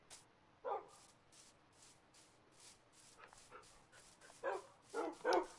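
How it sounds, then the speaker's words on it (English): Dogs bark in a video game, giving several short, sharp barks and yips at irregular intervals. They sound faint to moderate and grow louder and more frequent toward the end. "Oh God, please don't hit any of the dogs, please!"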